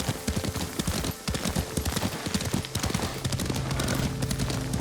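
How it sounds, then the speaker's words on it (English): Horse hooves clip-clop at a steady riding gait in the Ghost of Tsushima video game, a dense rhythmic patter close by, with a brief neigh and a sustained tone under it. "Lord Sakai taught me to ride a horse."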